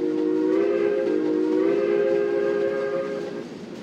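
A sustained steam locomotive whistle from the Trainz game (SAR 520 engine) sounds loudly for several seconds, a steady harmonic tone over a rumbling background, then fades slightly.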